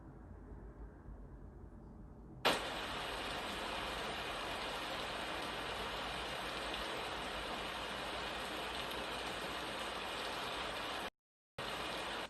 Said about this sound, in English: Play rain sounds.